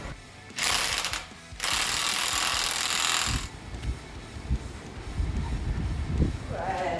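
A 2005 Chevy Trailblazer's axle nut is tightened with a 36 socket, giving bursts of loud mechanical ratcheting that are followed by scattered metallic clanks and knocks.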